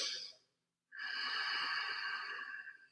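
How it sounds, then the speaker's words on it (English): Constricted-throat breathing in and out through the nostrils with the mouth closed: a short airy breath, a brief silence, then a long loud hissing breath held for about two seconds, close by and alone. "you're breathing in and out through your nostrils"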